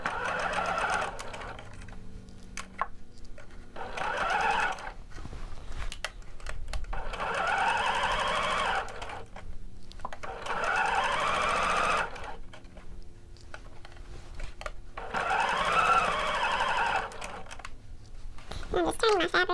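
A sewing machine stitching the seams of shorts as the fabric is turned, running in steady bursts of whirring stitches separated by short pauses.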